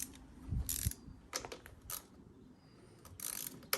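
A socket ratchet clicks in short bursts while loosening bolts on a Ryobi lawnmower, quiet metallic ratcheting separated by pauses and faint handling noise.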